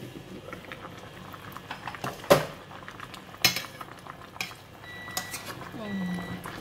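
A metal lid clanks onto a pan of stir-fried Chinese broccoli with garlic, a couple of sharp close clatters over soft sizzling, with a voice talking faintly underneath.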